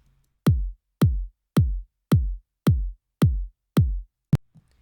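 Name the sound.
mid-range kick drum sound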